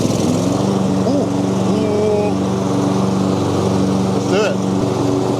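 An AL-KO ride-on lawn mower cutting grass, its engine droning steadily and loudly close by with a constant tonal hum throughout; a person speaks briefly over it.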